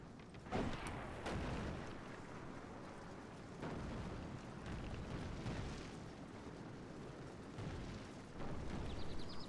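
Musket volleys from troops in a strategy video game battle, heard as scattered booming bursts and rumbling crackles over a steady din of battle noise. The firing is moderately distant and repeats at irregular intervals.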